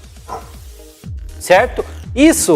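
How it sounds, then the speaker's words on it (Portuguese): A small dog barks in quick repeated yips in the background while a person talks over it, the barking steady and fairly close. "Estão ouvindo o cachorro latindo?"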